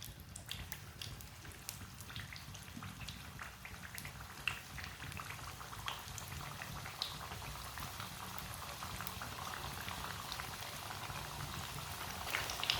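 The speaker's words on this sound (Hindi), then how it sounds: "दो मिनट के लिए इसे फ्राई होने देते हैं।" Kachori samosas, made from raw potato, fry in a small amount of oil over a medium flame, giving a steady, close bubbling sizzle with fine crackling pops throughout and no talking.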